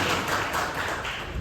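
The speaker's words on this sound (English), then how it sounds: "Everyone give a round of applause for Matthias." A classroom of students applauds a classmate, a short dense burst of clapping at steady moderate loudness with no talk over it.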